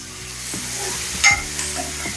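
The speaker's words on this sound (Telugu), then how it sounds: "ఇప్పుడు ఇవి మూడింటిని మంచిగా ఫ్రై చేసుకోవాలి." Green chillies and coriander stir-fried in a pan, a steady close sizzle with a few scraping stirs of the spatula and one sharper clatter partway through; no talking.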